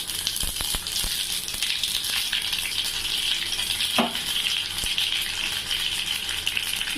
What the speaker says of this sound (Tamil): கொஞ்சம் கடுகு போட்டுக்கலாம் நல்லா கடுகு பொரியட்டும்